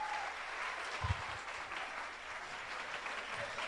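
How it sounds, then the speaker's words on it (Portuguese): A church congregation applauding during a Brazilian Portuguese evangelical service, a fairly quiet, steady patter of clapping from a crowd lasting the whole stretch with a faint thump near the start. "A salva de palmas aí para os irmãos"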